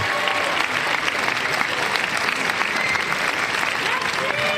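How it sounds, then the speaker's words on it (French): Steady, dense applause from a crowd at a closing church service as the organising committee goes up on stage, a continuous broadband wash of clapping with a faint voice underneath. "vous entendez les applaudissements parce que actuellement est monté sur scène tout le copil"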